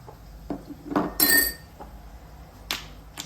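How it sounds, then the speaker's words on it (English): A small whisk beating a spice mixture of garlic powder and seasonings in a bowl, a few short clinks and one brighter metallic burst against the bowl, close and brief, no voices. "Just get yourself a small whisker."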